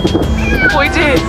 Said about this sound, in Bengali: পুতুল বিড়ালটা ডাকছে।